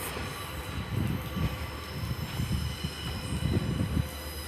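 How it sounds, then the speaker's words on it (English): Class 143 Pacer diesel unit 143621 pulls out of Exeter St Davids towards Exmouth, a steady low rumble of engine and rolling wheels with rhythmic clanks and joint thumps throughout, no voices. "the rear pacer is 143621, heading off to Exmouth"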